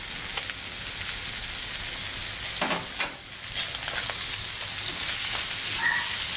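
Onion and garlic, seasoned with salt and pepper, sauté steadily in a hot pan, a continuous crackling sizzle with a few stirring scrapes, close and moderately loud, no voices.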